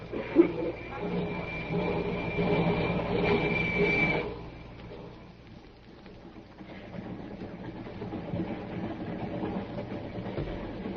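A steady rumbling train ride with clattering and a high whine, voices talking over it, the noise fading briefly before the rolling continues.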